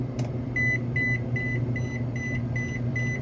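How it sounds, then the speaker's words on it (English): An underground pet fence transmitter sounding its broken-wire alarm: a steady series of short, evenly spaced electronic beeps, about two per second, over a constant low hum, close and with no talk. "what's causing the alarm to go off when we've got our fence actually plugged into this"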